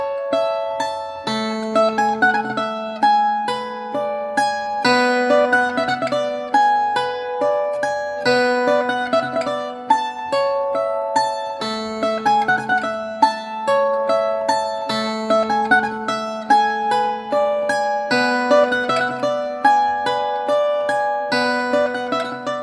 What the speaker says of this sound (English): Fado corrido. It is one of the fados de estilo and a well-known melody.